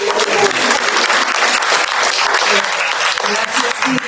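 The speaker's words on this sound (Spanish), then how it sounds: "le damos un aplauso a ella" Loud, dense applause from an audience welcoming a guest at a faith-based luncheon gathering, a continuous wash of many hands clapping up close, with a little voice murmuring underneath near the end.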